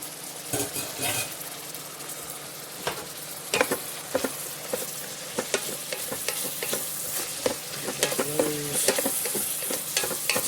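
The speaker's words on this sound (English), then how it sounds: "our onions have been going for just a couple minutes, so we're going to throw in our mushrooms that we sliced up earlier" Sliced mushrooms tossed onto onions already frying in an Instant Pot sizzle steadily, with repeated stirring scrapes and clatters over the hiss.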